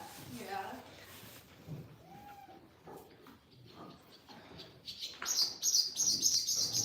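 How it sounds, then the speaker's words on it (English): People talk while barn swallows chirp on a farm, with the chirps growing sharper and more frequent toward the end. "We're getting all these barn swallows."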